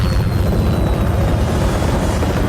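A helicopter in a movie scene gives off a loud, dense rotor thump and engine roar that pulses steadily and fills the whole stretch at close range, with no voices.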